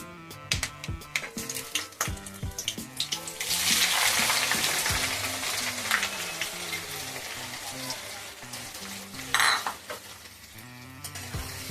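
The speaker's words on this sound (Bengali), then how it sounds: "এবার আমি এর মধ্যে পেঁয়াজগুলো দিয়ে দিচ্ছি" Onions hit hot oil with bay leaves, a loud hiss that swells into sustained sizzling, with clinks of utensils and pan scraping, over background music.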